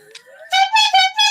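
A novelty honking horn, carried with a clown nose as part of a costume, sounds several bright, nasal honks in quick succession, loud and close.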